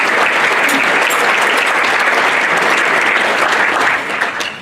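Loud, sustained applause from a crowd at a school sports awards ceremony, dense clapping that holds steady and then begins to fade at the end.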